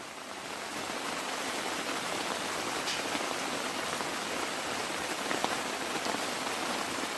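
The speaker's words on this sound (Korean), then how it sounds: "비가 많이 내리고 있습니다" Heavy rain pours steadily at a campground, a dense, unbroken hiss of drops drumming on surfaces with no letup, close and enveloping from start to finish.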